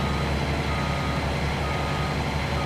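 Reversing beeps from an International Transstar truck in the Farming Simulator 25 video game, a steady repeating alarm over a constant low diesel engine rumble with no talk.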